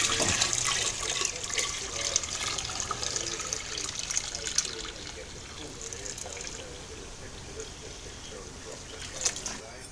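Wort from a small mash trickles and splashes steadily into a vessel during the last runnings of a mild red ale brew day, a continuous close watery flow with faint background noise and no talk.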